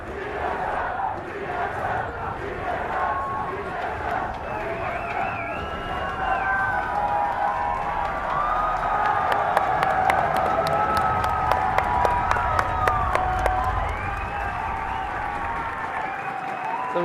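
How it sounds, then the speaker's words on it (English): A big esports arena crowd at a League of Legends grand final between CLG and TSM roars and cheers continuously, swelling louder midway with rhythmic clapping and chanting for TSM, a dense wash of many voices filling the hall. "The crowd is going insane."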